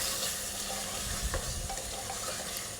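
Potatoes sauté with biryani spices in a pan for egg biryani, giving a soft, steady sizzle and light stirring close by.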